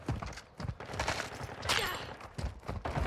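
Rapid bursts of gunfire from 7.62 incendiary rounds in Call of Duty: Modern Warfare 2, a team deathmatch on the Shoothouse map, several loud shots cracking in quick succession over continuous game background noise.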